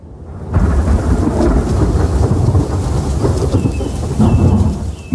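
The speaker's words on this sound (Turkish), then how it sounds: "gök gürültülü yaz fırtınaları" Loud thunder from a summer thunderstorm in Turkey rumbles through a steady downpour of rain, the deep roll sustained and heavy throughout, with no voices.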